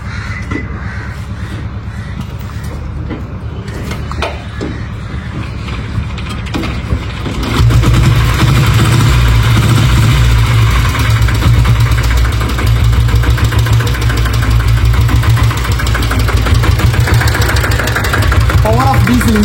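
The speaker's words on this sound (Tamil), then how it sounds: "Power of diesel engine." An old diesel Royal Enfield Bullet motorcycle engine fires up and keeps running, a loud steady low chugging thump that grows heavier partway through, with voices talking over it.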